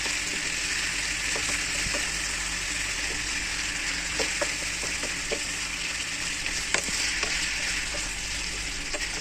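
Chicken curry bubbles and sizzles in a pan while a spoon stirs it, a constant loud frying hiss with scattered scraping clicks near the middle and end.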